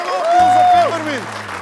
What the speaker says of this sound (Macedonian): Голем аплауз за Пеперминт.